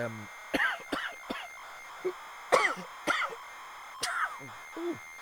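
Coughs and sneezes recorded onto a ZX Spectrum-era tape: a series of sharp, separate bursts spaced about a second apart, fairly close and loud against a faint hiss.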